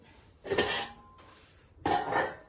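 A plate is picked up and handled in a kitchen while a palmyra sprout curry is served, giving two short clattering bursts of crockery about a second apart, fairly close, with no talking.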